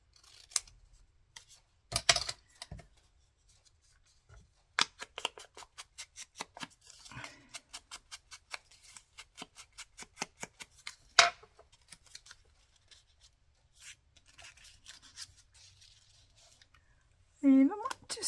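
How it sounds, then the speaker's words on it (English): Scissors snip paper while a vintage botanical journal is crafted, with scattered single cuts and runs of quick rhythmic snips, close and crisp, separated by quiet pauses and a brief rustle near the end. "Might just cut that off as well."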